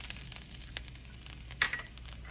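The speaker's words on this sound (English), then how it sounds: "So now we're going to go ahead and add our ginger." Ginger sizzles steadily in hot oil with crushed peppers while it is sautéed for orange chicken, with a few sharper crackles and spatula scrapes close by.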